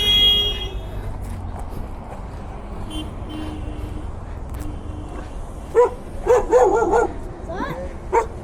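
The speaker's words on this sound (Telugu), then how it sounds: "2 డాగ్స్ని తీసుకొని వెళ్తుండ్రా బండి మీద" Two puppies carried on a motorbike during an Independence Day superbike group ride in Hyderabad, yapping in a quick burst of several sharp barks in the second half, over steady road and engine noise with a faint horn toot.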